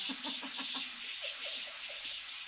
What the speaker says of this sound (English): There's a lot of steam